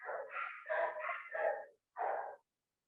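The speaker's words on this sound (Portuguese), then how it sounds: "O primeiro é quando as cachorras latem." Several dogs bark and yip in a quick series of close, sharp bursts, with a short pause before one final bark.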